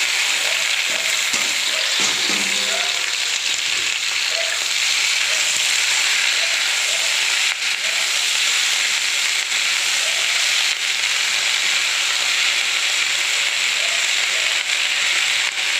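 Spinach (palak) and chilies fry in a pan with a steady, loud sizzle running the whole way, broken by a few clinks and scrapes of a spatula near the start.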